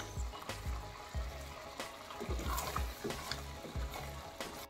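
Pineapple jam bubbles and sizzles in a Teflon pan over low heat, with soft, irregular low pops repeating steadily and quietly close by.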